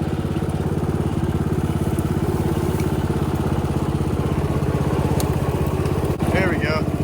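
Budget lawnmower-engine go-kart running in third gear, a steady close buzzing drone with a fast even pulse that holds throughout, a faint brief squeak near the end.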